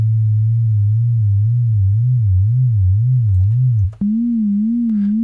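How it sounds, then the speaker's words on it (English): A sine-like tone from an Ableton Operator synth with slow vibrato, its pitch swaying up and down in a steady wave, then jumping higher after a brief dropout and continuing with a gentler wobble, loud and alone. "Now I think you hear that it's actually vibrato. The pitch is going up and down"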